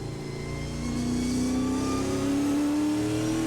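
A Trans Am race car at Portland International Raceway, heard from onboard, its engine droning loud and close and climbing steadily in pitch as it accelerates through a difficult section of corners.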